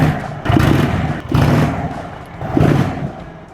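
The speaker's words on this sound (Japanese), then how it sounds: "アクセルを開けた時のこのマフラーから聞こえてくるこのバラバラっていう歯切れのいいパンチのある音" A custom Harley-Davidson Breakout or Indian Chief cruiser, a big V-twin, barks through its muffler as the throttle is blipped three times, each burst a punchy, choppy rumble that drops back between pulls.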